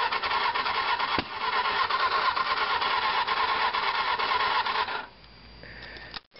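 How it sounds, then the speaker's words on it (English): Motorcycle starter motor cranking the engine on a weak, suspect battery: a strained, steady whirring grind lasting about five seconds, then cutting off to a quiet electrical whine, no voices. "We can try and start the bike up."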